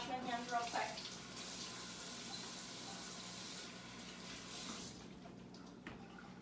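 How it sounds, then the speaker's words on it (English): A faucet runs steadily into a kitchen sink during handwashing, a faint, even hiss with light splashes near the start, then it tapers off near the end. "Just gonna wash my hands real quick."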